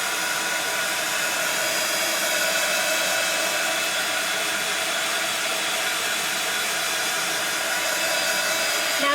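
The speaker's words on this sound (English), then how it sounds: "So I'm just using my heat tool for this." A heat tool blows steadily on a journal page to dry gelato wax crayon colour, a constant loud hairdryer-like rushing hiss with no break throughout.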